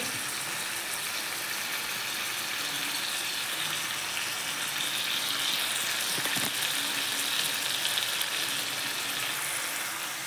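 Spices and tomato sauté in oil for Bengali chicken kosha, a steady, dense sizzle heard close and alone, with a faint clink midway.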